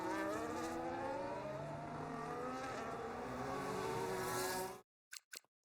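Racing Bulls Formula 1 car engine in a racing video game, a loud steady high-pitched whine with shifting harmonics held for about five seconds before cutting off, followed by a few faint short blips.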